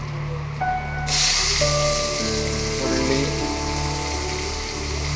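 Sliced onion dropped into a hot pan after potatoes, bursting into a sudden loud hiss that settles into a steady sizzle over a low background hum, with no talking.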